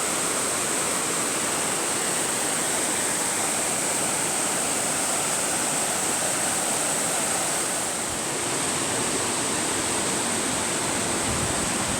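The Sanddrifrivier, a meandering river winding toward the Indian Ocean in the Eastern Cape, flows with a steady, continuous rush of water, broadband and unchanging from start to finish, with no voices present.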